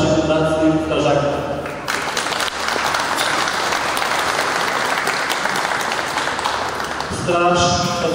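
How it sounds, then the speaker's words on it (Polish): An audience at a volunteer fire brigade's centenary ceremony in Przysucha breaks into sustained, steady applause lasting several seconds, framed by an announcer speaking over a public address system before and after. "poprosimy wszystkich gości zaproszonych, pierwszą widownię, o brawa dla naszych wydatnych strażaków"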